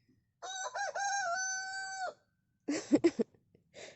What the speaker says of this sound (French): Un coq.